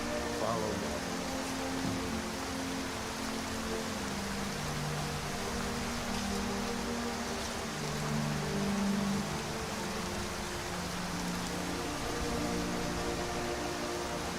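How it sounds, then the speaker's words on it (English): Pouring rain in Skyrim, a steady, even hiss of rainfall that runs the whole stretch, with low tonal game sounds humming underneath and no one talking. "I can't hear you over the rain"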